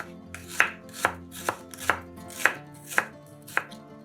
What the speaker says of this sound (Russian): Одну-две луковицы нарезаем полукольцами